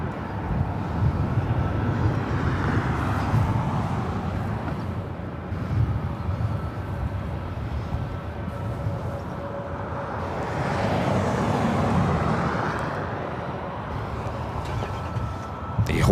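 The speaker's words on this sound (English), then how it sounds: "we got that Spirit Airlines flight 889 coming in from Columbus, Ohio at A321neo as our next arrival here" A Spirit Airlines A321neo arrives at LAX as distant jet rumble swells and fades in broad waves over outdoor ambience, with a low steady drone underneath.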